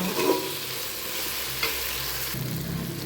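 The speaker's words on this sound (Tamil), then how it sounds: "இஞ்சி பூண்டு பேஸ்ட்டு போட்டதுக்கப்புறம் கையை எடுக்காமல் வதக்கிட்டே இருங்க" Ginger garlic paste with chillies sizzles steadily in oil for chicken biryani, a dense close frying hiss with occasional soft stirring scrapes and no speech.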